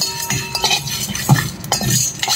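Whole spice seeds, including fenugreek, are dry-fried in a pan without oil for Tirumala-style pulihora, producing a steady close rattle and scrape of seeds and utensil against metal.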